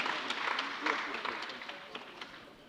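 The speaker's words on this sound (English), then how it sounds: "Please, another round of applause for our panelists." Audience applause for conference panelists, a dense patter of many hands clapping that stays steady and moderately loud, then gradually eases off.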